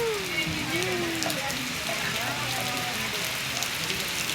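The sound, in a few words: heavy rain falling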